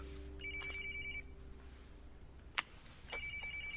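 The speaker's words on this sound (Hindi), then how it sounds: "किसी का कॉल आ रहा था, फोन बाहर पड़ा था।" A mobile phone left lying outside rings with a bright electronic ringtone in two bursts, separated by a quiet gap with a single sharp knock, heard fairly softly against a low room hum.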